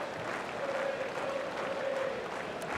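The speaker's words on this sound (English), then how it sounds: "Cheering for the local hope" Capacity crowd at Rod Laver Arena during an Australian Open 2005 night quarterfinal, cheering and applauding for Lleyton Hewitt against David Nalbandian: a continuous, dense roar of clapping and voices, steady throughout.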